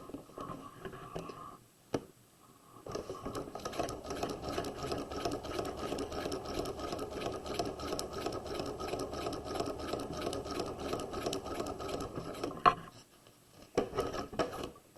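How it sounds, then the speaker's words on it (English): Sewing machine stitching a seam on a quarter zip jacket, running steadily for about ten seconds after a brief start, then stopping, with a few short bursts near the end; close and fairly loud, no talking. "we're going to stitch across to our notch, and we'll pull that out, leaving large stitches"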